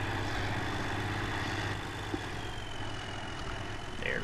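A tractor engine idles in Farming Simulator 2013, a steady low rumbling drone with a faint whine above it, continuous and unbroken with no talk.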